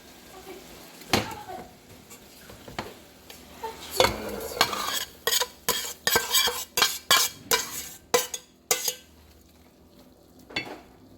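Fried noodles with mixed vegetables being scraped and shifted from a small frying pan into another pot, a run of close metallic clanks and utensil scrapes over a faint sizzle, quickening into rapid knocks near the end.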